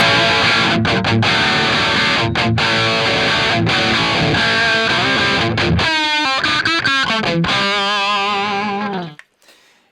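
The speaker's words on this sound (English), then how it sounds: "Or you can have more like of a bright rock guitar sound" A Gibson SG Junior electric guitar with a bright, distorted rock tone chugs out chords, then lets a few ringing notes sustain before cutting off into silence.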